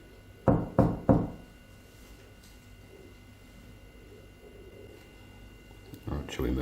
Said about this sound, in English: maybe you can knock on a wall or knock on a table.